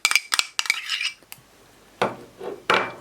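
Utensil scraping and clinking against a bowl as chicken is mixed with fromage blanc into a marinade, in bursts of clatter separated by short pauses, close and fairly loud.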